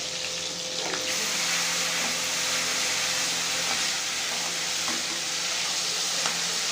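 Garlic and chillies frying in hot oil in a wok, giving a steady close sizzle with occasional stirring scrapes throughout, and no talking.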